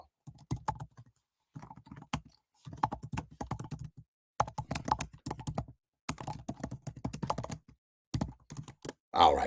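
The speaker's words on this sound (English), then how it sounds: "Don't get mad because I type fast" Rapid typing on a computer keyboard, close and crisp, with bursts of quick clacking keystrokes separated by brief pauses.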